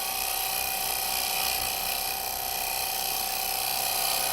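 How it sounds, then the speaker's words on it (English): Wood spins on a lathe while a Robert Sorby TurnMaster cutter shear-scrapes through the grain, a loud, continuous high whirring and hissing drone with a steady motor whine throughout. "The cutter is now shearing through the fibres of the grain."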